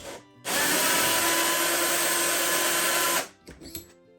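A power drill whirs steadily for about three seconds as it trims a 7mm Remington Magnum brass cartridge case, close and loud, then stops, followed by light handling clicks.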